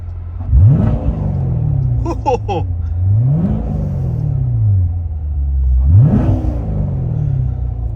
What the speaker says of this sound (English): So let me roll down the window and rev it.